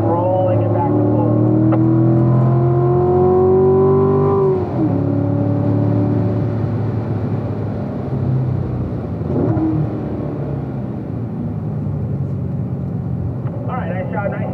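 Car engine held at full throttle, loud and close, with rising and falling revving tones that sweep upward before dropping into a steady rougher drone, with a voice speaking over it.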